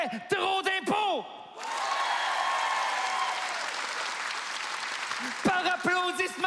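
A comedy gala crowd breaks into loud, dense applause in answer to a comedian's question, with the performer's voice heard just before and after the burst.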